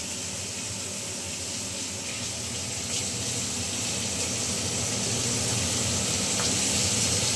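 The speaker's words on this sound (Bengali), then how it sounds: "একটু সবজিগুলো ভাজা হোক।" Vegetables frying with black cumin and green chilies in a clay wok, a steady, close, even sizzle and hiss that runs without a break and grows slightly louder, with no voices.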